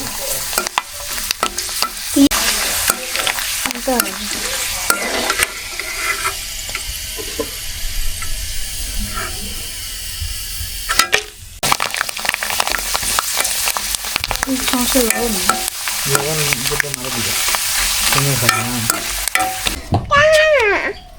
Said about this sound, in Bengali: তেল অনেক গরম বাকিটা ভেজে ফেলেছি